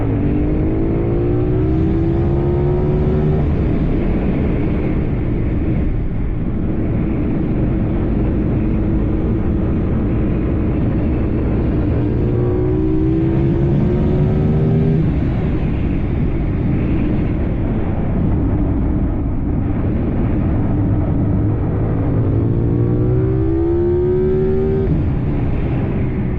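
A Yamaha R7 motorcycle with a new intake and ECU flash revs hard and loud, winding up repeatedly through the gears in rising sweeps, close and steady for nearly half a minute, with no talk.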